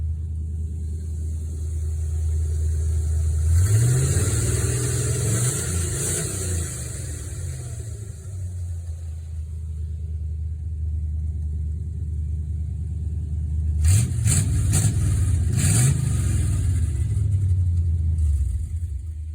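A Jeep CJ5 hot rod engine idles with a deep, rumbling throb, then revs up twice, once early and once near the end, each rising to a louder roar before settling back.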